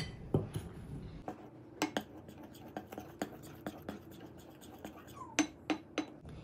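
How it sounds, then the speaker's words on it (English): Dry pancake ingredients being stirred in a bowl, a utensil clinking and scraping against the sides in an uneven rhythm of light taps, close and fairly quiet, with faint talk in the background. "Now we will mix the dry ingredients."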